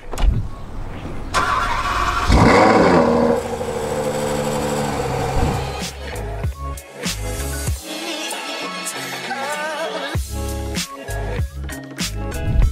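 A Ferrari 812 Superfast fires up with a sharp starter burst and a loud rising roar, then settles into a rumbling idle broken by throttle blips and choppy engine bursts, close by.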